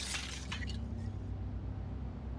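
Glass shattering in a zombie survival video game, a quick bright crash with a few tinkling shards at the start, then a low ambient hum.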